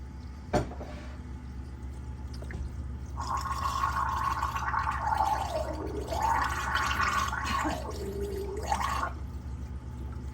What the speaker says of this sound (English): Now I'm going to blow air through the water